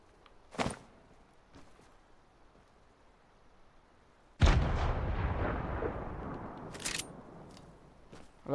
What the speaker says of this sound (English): I love how they make the explosion sound so big even though it's so small